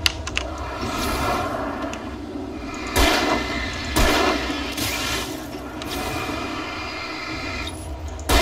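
Gunfire at a shooting range in the video game Alan Wake, a dense continuous roar of shots with several louder bursts standing out, heavy and close, with no talk.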